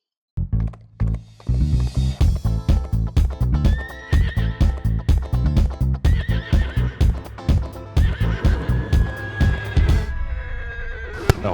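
Horses at horse trainer Jean-François Pignon's home neigh and whinny with drawn-out calls over a steady run of close hoof clops and knocks, loud and busy throughout.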